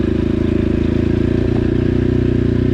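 A Dakar 250 (CRF 250) enduro motorcycle engine idles with a steady low throb, then blips up in a few quick revs, loud and close.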